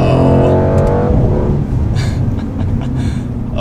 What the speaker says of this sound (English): AMG makes the best sounding V8s, hands down